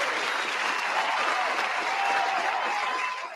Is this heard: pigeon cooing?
no